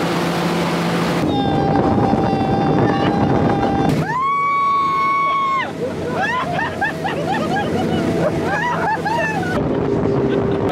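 A speedboat on a tour in the Netherlands roars across the water with rushing waves and wind buffeting the microphone, the engine pitch shifting as it speeds along.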